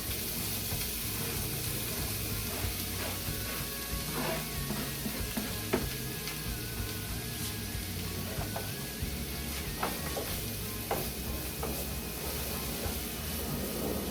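Garlic and onion sizzle in olive oil in a saucepan, a constant close crackling hiss with small stirring clicks throughout and no voices.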